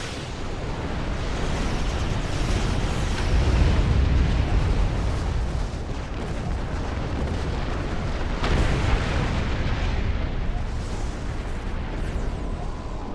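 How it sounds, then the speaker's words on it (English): A large explosion in the space game Star Trek Online: a long, heavy, rumbling blast that keeps roaring and rolling, swelling in the middle with a sharper burst later and a bright debris crackle, and no speech. "that big explosion kind of gave that away"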